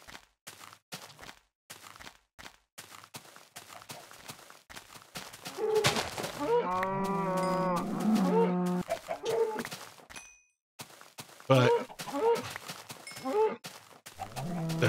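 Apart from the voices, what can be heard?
cow mooing in video game Minecraft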